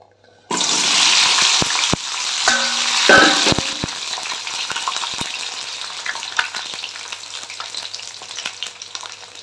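Okra dropped into hot oil in a large kadai gives a loud, steady sizzle that starts abruptly and runs continuously, with stirring clatter and scrapes over the top.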